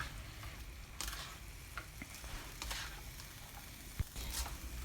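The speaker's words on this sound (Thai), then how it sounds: "จากนั้นก็ผัดให้ถั่วงอกสลดความร้อนนะคะ" Bean sprouts stir-fried in a pan with tomatoes and baby corn give a steady, low sizzle. A few brief scrapes and ticks from the spatula break through now and then, and no one speaks.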